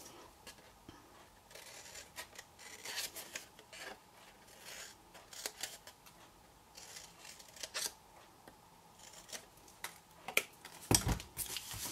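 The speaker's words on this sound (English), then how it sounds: "I will cut that one out and then I will show you the rest." Scissors cut out the corner panels of a reinforced card DSP lidded box, with faint, close snips and papery rustles scattered irregularly and no voice.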